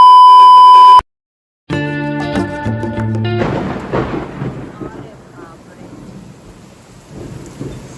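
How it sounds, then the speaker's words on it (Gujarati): Heavy night rain in Surat with rolling thunder, a loud crack and long rumble following a brief electronic tone and a moment of silence, then steady rain hiss fading under the decaying thunder. "વરસાદ પણ બહુ મસ્ત આવે છે."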